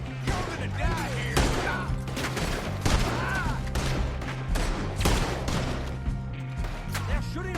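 Gunfire in the Western video game Red Dead Redemption 2, a loud, sustained exchange of repeated shots and sharp cracks over a constant low drone, with impacts spread across the whole stretch.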